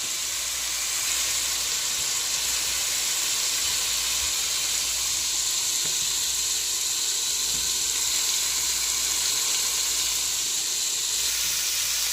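Carrots and onions soften in a pot for lamb stew, giving a steady, even sizzle and hiss with a faint steamy texture that runs unbroken and close throughout.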